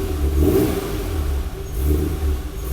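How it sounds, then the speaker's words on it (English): A BMW E12 M535i engine revs up twice from a low rumble, loud and steady nearby, with no talking. "I'll give it a couple revs."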